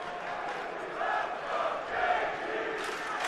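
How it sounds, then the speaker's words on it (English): An arena crowd at a UFC fight in T-Mobile Arena cheers in a continuous distant roar, swelling in two brief surges before settling back to a steady murmur. "Man, this crowd just comes alive."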